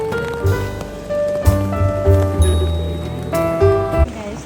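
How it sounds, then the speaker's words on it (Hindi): Heavy rain pours down near a castle in Osaka, Japan, a steady close hiss that continues under voices and tonal background sounds. "इतनी तेज बारिश आ रही है।"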